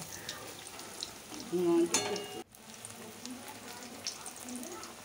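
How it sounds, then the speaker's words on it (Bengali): Eggplant fritters deep fry in oil with a soft, continuous sizzle and light crackle, a louder burst of frying midway, and a voice talking over it. "এই যে বেগুনিগুলো ভেজে নেওয়া হচ্ছে"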